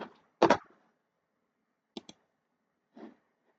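Several sharp clicks from a computer mouse ring out on a quiet background: one louder click, then a quick close pair and a final softer one, spaced irregularly.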